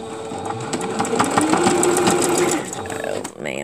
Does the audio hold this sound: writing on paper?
no